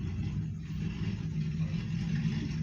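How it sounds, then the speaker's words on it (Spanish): A motorcycle passing outside makes a steady low engine rumble, muffled and droning throughout without a clear peak. "Disculpen si se escucha el ruido de una moto"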